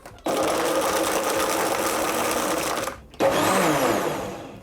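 A blender whirs loudly, crushing ice with white rum and sugar syrup for a piña colada, running steadily for about three seconds, cutting out briefly, then starting again.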